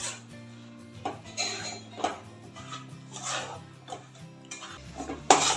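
A spoon stirs and scrapes a sesame and jaggery mixture in a pan over low heat, with rhythmic metallic clinks and scraping strokes about once a second, close and alone.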